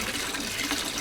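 Water gushes and drains through a paint brush rinser basin, a steady rushing flush of liquid running throughout.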